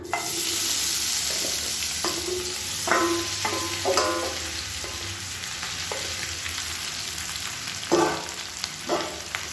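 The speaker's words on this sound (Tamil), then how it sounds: "இப்போ எண்ணெய் நல்லா சூடாகிடுச்சு. நம்ம கலந்து வச்ச உருளைக்கிழங்க இதில் சேர்த்துக்கலாம்." Potato pieces frying in hot oil with garlic, a steady close sizzle broken by scraping stirs every second or two.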